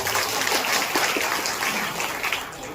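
Steady applause from a crowd at a local umbrella distribution event hosted by a former corporator, dense, continuous clapping that holds evenly throughout.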